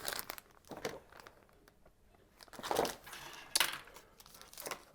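Plastic packaging crinkling and rustling in scattered bursts while resin 3D printer parts are unpacked, close and fairly quiet with short crunchy peaks.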